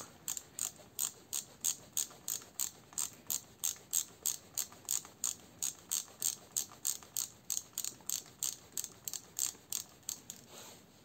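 A ratchet wrench loosens a bolt on a Nissan Tiida alternator, giving a steady run of quick, evenly spaced metallic clicks close up, with no voices.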